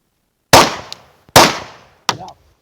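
Two sharp pistol shots fired at a target on a range, about a second apart, each loud and close with a short decaying tail, followed by a third, smaller impact-like crack.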